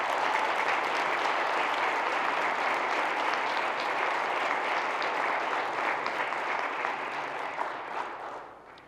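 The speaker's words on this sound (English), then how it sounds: "Now, let's give a round of applause to all of tonight's nominees." Audience applause for the evening's nominees at a local awards gala, a dense sustained wash of many hands clapping that fades slightly toward the end.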